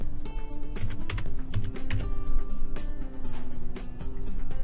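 Rapid typing on a computer keyboard while entering a path during a phpFreeChat install, steady close clicking keystrokes with a faint background hum and no talk.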